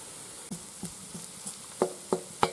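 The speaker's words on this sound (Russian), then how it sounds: "Чтобы наш соус был погуще, мы добавляем муки и будем обжаривать немножко муки." Flour being stirred as it toasts in a kazan, with a steady soft frying hiss underneath and a series of scraping spoon strokes that come at a slow, even rhythm and grow louder toward the end.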